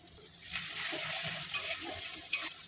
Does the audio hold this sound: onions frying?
yes